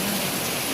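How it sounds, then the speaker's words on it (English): Steady rain falls during a rainy day, a dense, constant hiss close by with no pauses or voices. "I just love it when it's rain."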